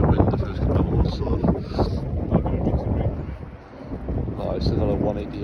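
Strong wind buffets the microphone on a golf course in terrible weather, a loud, steady rumbling roar. A voice talks over it.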